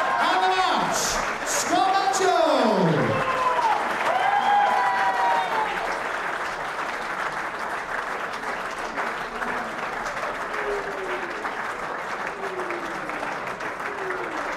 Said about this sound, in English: A round of applause, please, for Dirk Telekes